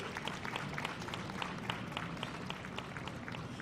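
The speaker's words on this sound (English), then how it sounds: "So let's give her another round of applause." Another round of applause for a singer at a Juneteenth flag raising ceremony in Chicago, fairly faint crowd clapping with distinct individual claps, sustained at an even level.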